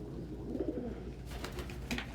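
Pigeons coo softly at a distance, a few low throaty burbling calls over a faint background hum, with light rustling near the end and no talk.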